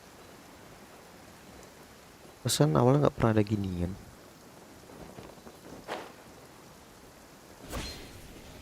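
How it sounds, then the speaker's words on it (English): Steady soft rain hiss in the Genshin Impact video game, running under someone talking briefly, with a few faint thuds later on. "Let us find shelter from the rain"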